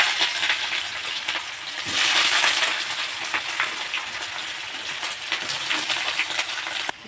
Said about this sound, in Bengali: দেখতে পাচ্ছ পেঁয়াজগুলো ভাজা ভাজা হচ্ছে